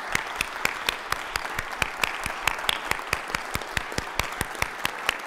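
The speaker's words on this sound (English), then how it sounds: "all of us please give the law enforcement officers and the different law enforcement agencies that protect us every day a round of applause now" Applause in a state senate chamber honoring law enforcement officers, with a steady wash of many hands clapping and evenly spaced sharp claps rising above it in a regular rhythm, moderately loud and without talking.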